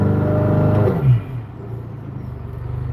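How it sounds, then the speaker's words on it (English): A Honda Accord with a new high-pressure fuel pump revs hard at full throttle, a loud rising engine roar that drops away after about a second to a steady low idle hum. "Let me put it in drive real quick so you guys can see what it looks like when I'm at full throttle."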